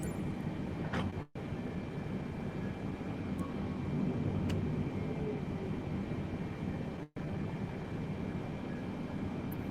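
Boeing 777 in Microsoft Flight Simulator 2020 taxiing into position, a steady broadband engine rumble and hum running throughout, with two brief dropouts.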